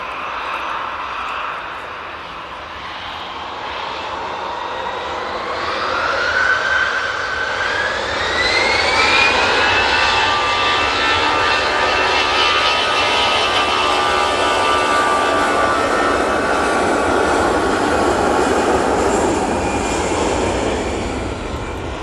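A passenger jet takes off at Manchester Airport, its engine roar loud and sustained, rising and sweeping in pitch as it passes close by and then holding as a broad, steady rumble.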